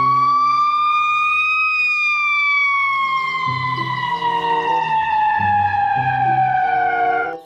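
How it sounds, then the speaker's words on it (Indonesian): A toy ambulance siren wails in a steady, slowly falling electronic tone, loud and close, running continuously with faint clicks and rattles of the toy underneath. "ini mobil ambulans."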